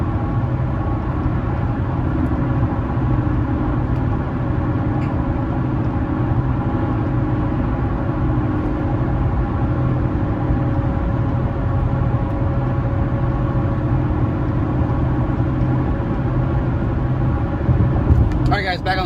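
A Toyota Tundra truck's engine drones steadily in 6th gear as it climbs a hill, a constant low hum with road noise heard from inside the cab under continuous talking.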